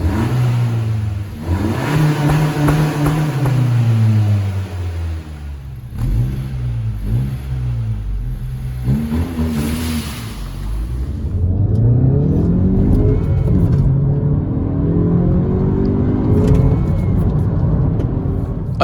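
A 2021 Honda Civic with a 1.5 VTEC Turbo engine drives and accelerates, its engine note rising and falling through gear changes, then swelling into a louder sustained pull, close and clear without talk.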